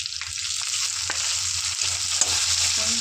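Tomato pieces fry in a pan for tomato rice, hissing in a continuous close sizzle over a low background hum, with a few light stirring ticks.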